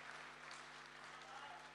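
Audience applause at a Republic Day Kavi Sammelan and Mushaira poetry gathering, a steady, dense wash of clapping held at an even level throughout, fairly faint and distant, with a low electrical hum beneath.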